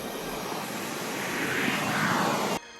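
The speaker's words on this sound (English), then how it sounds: "I'm amazed how quiet this drone is" A DJI Mini 3 Pro drone lifts off and flies, giving a steady broadband whir that swells in the middle and holds close and fairly loud before cutting off sharply near the end, with no talking.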